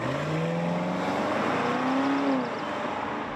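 A BMW 760i xDrive engine accelerates hard, its rising whine climbing in pitch through the gears with a brief shift, then easing off near the end, loud and close.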